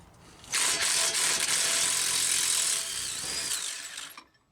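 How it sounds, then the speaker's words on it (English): A power tool whirs steadily for about four seconds as the lower shock bolts are removed on a Mustang GT. It sounds close, with a bright grinding drive tone that eases slightly before it cuts off, and there is no talk. "Then with the sway bar out of the way, you can remove the lower shock bolts."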